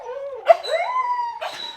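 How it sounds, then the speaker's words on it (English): Pet dogs howl together at home, long wavering tonal howls rising and sliding over each other in a close, fairly loud chorus with a yelping break midway. "Any second now, my dogs are going to howl."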